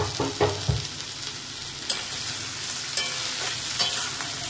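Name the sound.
sausages frying in a pan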